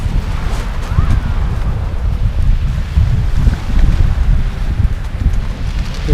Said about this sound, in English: Wind blowing around your neck's a bit chilly.